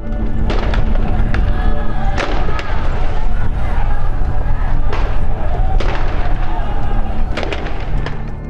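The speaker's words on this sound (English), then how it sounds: "Gunshots pierce the air," A rapid series of sharp, loud cracks of gunfire during a Brazilian prison riot, some single and some in quick bursts, over a dense roar of noise.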